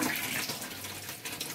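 Water from a household tap runs in a steady, close rush during a home laundry routine, heard alone with no speech.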